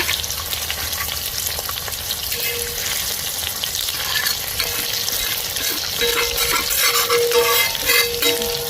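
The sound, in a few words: pomfret fish frying in masala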